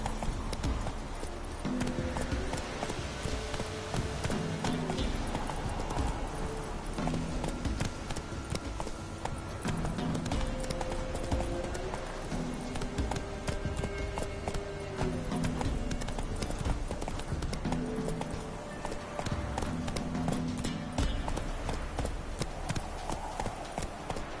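Horse hooves clip-clopping steadily in The Witcher 3 on PS4, a continuous rhythmic trot to gallop with an occasional whinny, all set against a constant dense layer of game music and ambience.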